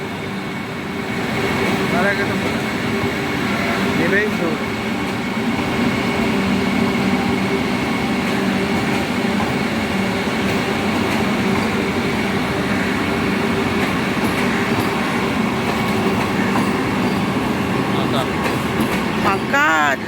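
A steady, loud rumble of a train pulling away, with rolling wheel noise and mechanical hum throughout and voices murmuring in the background.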